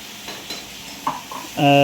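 Frying in a pan: a few stirring clicks, then a loud, steady sizzle bursts up near the end as spices hit hot oil for a paneer gravy tempering.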